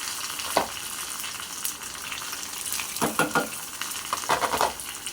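Onions frying in hot oil in a pan for a Tamil-style rock fish curry, a steady close sizzle with a few brief stirring scrapes and clinks, no talking.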